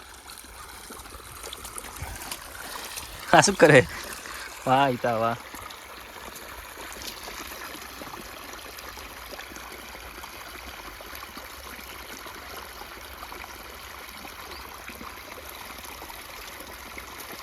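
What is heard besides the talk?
water flowing from borewell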